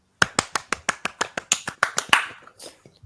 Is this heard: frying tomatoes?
no